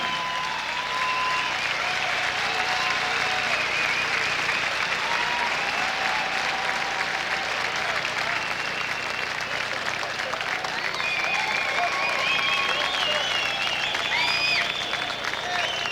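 A large arena crowd applauds a group of hockey players with Stanley Cup wins at an NHL All-Star game, sustained dense clapping and cheering that stays loud and even for the whole stretch, with faint voices mixed in.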